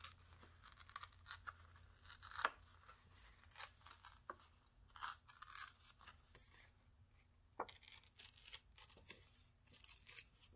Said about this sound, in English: rip it this way so I have the white.